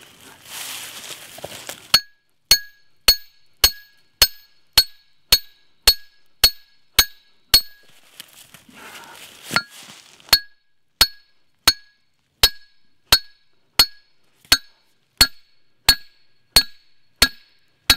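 Metal stake hammered into rocky ground for a trap set: a long, steady series of sharp, ringing clanks, about one strike every half second, loud and close, with a brief pause midway.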